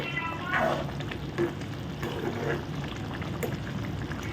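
Eggplant curry, a brinjal kuzhambu, is stirred in a hot pan: soft, steady sizzling with a few scraping strokes of the spoon, fairly quiet and close.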